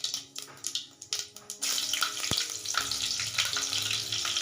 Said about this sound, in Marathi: आता तेल आपला चांगला कडक गरम झाला पाहिजे. त्यात आपण अर्धा चमचा जिरा टाकून घेऊया.